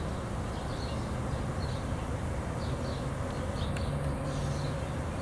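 A honey bee swarm hums as a dense, continuous buzz, with individual bees droning past nearby over the steady mass of sound.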